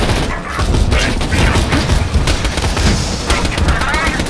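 Rapid automatic gunfire from a shaky, hard-to-control gun in the video game Borderlands 2, loud dense bursts rattling continuously over a busy game soundscape.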